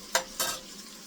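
Onions fry with thinly sliced beef in a pan, with two quick stirring scrapes and bursts of sizzle standing out over a low, steady frying hiss.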